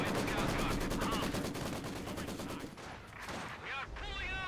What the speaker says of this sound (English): Got an MG here.